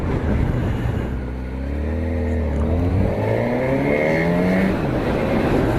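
A 2025 Honda Hornet 1000 motorcycle engine holds around 4,000 revs at just under 50 mph in traffic, a loud, close, throaty drone with rising and falling pitch sweeps, heard alone without speech.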